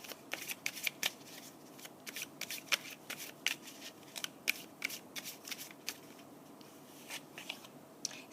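Oracle cards are shuffled by hand, giving a rapid, irregular series of crisp papery riffles and snaps, close and fairly quiet, with no talking over them.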